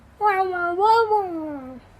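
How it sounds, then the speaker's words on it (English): A pet cat gives a single loud, close, drawn-out meow that bends upward in the middle and then falls away, heard alone in a quiet room. "if ever we hear a sudden meow, that's either one of our 2 cats"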